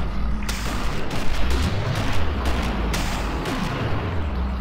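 Gunfire in the video game Killing Floor, a rapid run of shots and booms loud over a dense game background, with bursts clustered between the first and third seconds.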